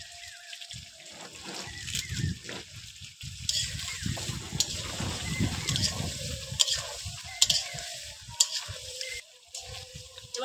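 Water poured into a pan of frying red country chicken curry, trickling and splashing over a steady sizzle and bubble, close by, with light clinks of utensils.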